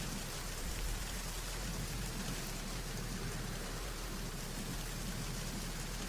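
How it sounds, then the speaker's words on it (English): Rain in the video game Metal Gear Solid 2 plays as a dense, even patter that holds steady and unbroken throughout, fairly quiet, with no voices. "I can hear the rain, but no words."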